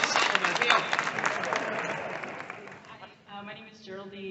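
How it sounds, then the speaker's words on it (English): An audience applauds steadily, the dense clapping fading away after a few seconds as a voice starts speaking. "Big round of applause for this."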